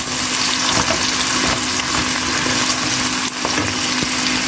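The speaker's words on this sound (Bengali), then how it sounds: "পেঁয়াজ আমি ব্রাউন কালার করে ভেজে নিচ্ছি" Chopped onions frying in hot oil, a dense, loud sizzle with a faint steady hum and occasional stirring clicks, lasting the whole stretch without voices.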